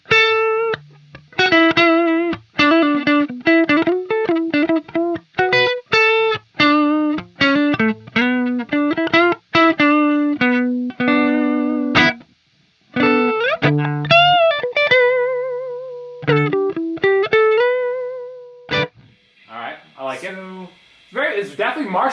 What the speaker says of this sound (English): This is going to be clean, warm. I want to hear the clean lead tones here.